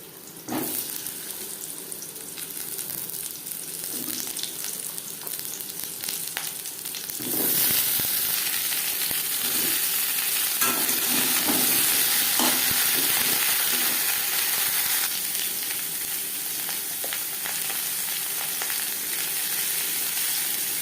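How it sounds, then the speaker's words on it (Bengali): Pointed gourd (potol) fries in a wok still oily from frying paneer, giving a steady sizzle that grows louder and denser partway through, with occasional stirring clinks. "পটলও ভেজে নেব"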